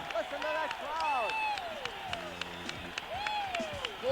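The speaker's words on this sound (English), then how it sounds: "Listen to that crowd." A boxing crowd at the end of the Ken Norton vs Randall Tex Cobb fight cheers and claps in a loud, sustained roar. Excited voices rise and fall within it, and a commentator speaks over the noise.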